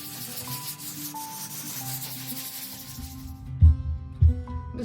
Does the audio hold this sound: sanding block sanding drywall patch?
yes